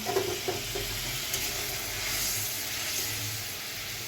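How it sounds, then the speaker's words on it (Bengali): A single fish frying in a small bowl rather than a wok gives a steady, even sizzle and hiss throughout, close and moderately loud, with no talking. "একটা মাছ ছিল ওটাই ভেজে দিয়েছি"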